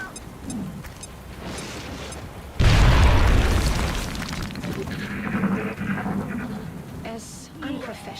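A grenade detonates in the X-Com: Enemy Unknown strategy game with a sudden loud, deep boom that rolls into a long rumbling tail, with someone talking quietly before and after.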